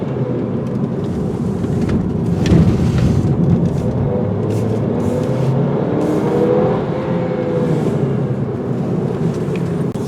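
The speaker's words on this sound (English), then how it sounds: "let's put the controls in dynamic mode and do some dynamic driving." A 2022 Audi A3 TFSI Quattro sports sedan driven hard in dynamic mode gives a steady, fairly loud engine drone with road rumble, rising and easing slightly as it accelerates through gears.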